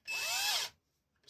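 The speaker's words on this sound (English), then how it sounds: "This drill bit's barely long enough to go all the way through if I have it chucked in the screw gun." A drill bit chucked in a screw gun whines at high speed in one short, steady burst, close by, then stops, during carburetor work on a Bolens Husky 18 push mower.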